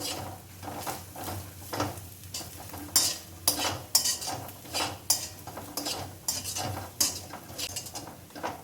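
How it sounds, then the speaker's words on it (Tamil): Golden dry-roasted grated coconut, toasted until free of moisture, rustles and scrapes as a spoon stirs it in a pan, with repeated clinks of the utensil against the metal and no talking. "தேங்காய் வேணா ஈரப்பசம் இல்லாமல் பொன்னிறமாக வறுத்துன்ட்டேன் அந்த சலசலப்பு எடுத்து பாருங்கள் தேங்காவோட சலசலப்பு"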